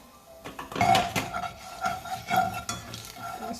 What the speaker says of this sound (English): stir that along with our curry